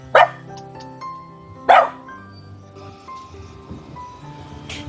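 Two sharp, angry barks from a dog at a house in Malalag come about a second and a half apart, with a faint third near the end, over a low steady hum.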